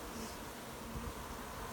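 Honey bees swarm over a hive frame in a steady, close, continuous buzzing hum that stays even and unbroken for the whole stretch, with no talk over it.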